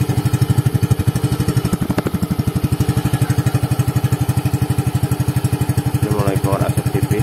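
A 2022 Yamaha Freego scooter idles close by with a steady, rapid single-cylinder putter while its exhaust gives off light smoke; a voice speaks briefly near the end.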